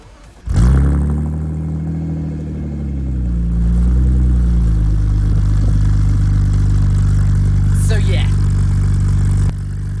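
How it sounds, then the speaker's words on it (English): Cold start of a BMW 323i with a modified exhaust: a sharp starter crank into a loud revving flare, then settling to a steady, rumbling idle up close, with a brief squeal partway through. "this is going to be a cold startup on my BMW 323i."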